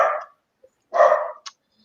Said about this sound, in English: let me go shut that dog up